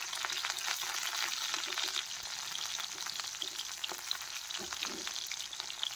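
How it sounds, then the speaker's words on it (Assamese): Chopped onions sizzle steadily in hot oil in a kadai, with a soft continuous frying hiss and occasional stirring scrapes, close up and quiet, with no voices. "তেল গৰম হোৱাত মই পিঁয়াজখিনি ইয়াতে দি দিলোঁ। পিঁয়াজখিনি অকণমান মই ভাজি ল'ম ভালদৰে।"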